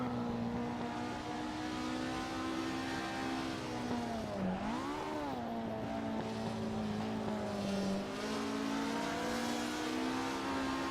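Shelby Cobra engine in the racing game Assetto Corsa, set at a Goodwood Festival-style event, holding a steady loud drone that dips and rises sharply mid-way as it changes speed, close and continuous with no talk.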